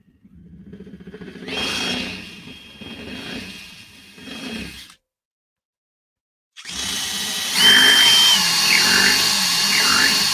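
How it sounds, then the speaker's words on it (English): A power drill whirs in bursts, running for about five seconds with rising and falling pitch, stopping in silence, then starting again louder with a higher whine that bends in pitch as it works. "Okay, so this drill needs to go in like so."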